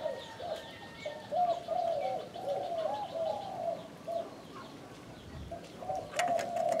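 Repeated soft spotted dove coos in short phrases, fairly close, with chirping birds in the background and a brief burst of higher calls near the end.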